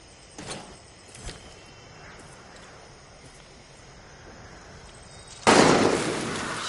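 Gunfire in the Far Cry 6 video game: two sharp distant shots early on, then a sudden loud burst of shooting or explosion near the end, with steady ambient noise between.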